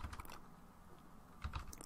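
Quick, quiet keystrokes on a computer keyboard as a Linux install command is typed, short bursts of clicks with a pause in the middle.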